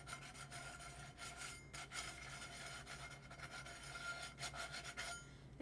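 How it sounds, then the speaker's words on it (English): Light hand sanding of the shiny coating on a tumbler, a soft continuous rubbing and rasping scratch that pulses with the back-and-forth strokes, close and quiet. "It doesn't have to be a super heavy sanding, like literally just enough to get that shiny coating off"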